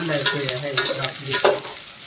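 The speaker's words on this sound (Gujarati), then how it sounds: "હવે જો તેલ આવી ગયું છે ને ગવાર આપણે નાખી દઈ" Cluster beans fry in hot oil in a pan, giving a close crackling sizzle broken by repeated scraping stirs and small pops, with no talk.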